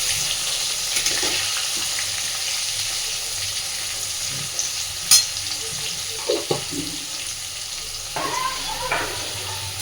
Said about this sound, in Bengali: লাল লাল করে আলুগুলো এবার ভেজে নেব